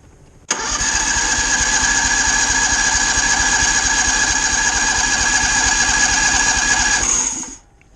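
A pressure washer engine on a washing rig is cranked over with the choke on, a steady loud mechanical churn with rapid pulsing that starts abruptly and runs evenly for about seven seconds before cutting off.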